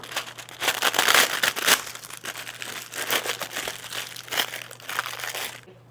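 Thin metalized film being crinkled and handled by hand, loud crackly rustling in uneven bursts close to the ear, a low steady hum underneath.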